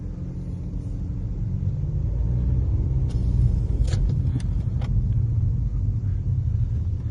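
A 2010 BMW 320d's 2.0-litre diesel engine with automatic gearbox drones with a steady low rumble while driving, with faint clicks and small rattles from inside the cabin.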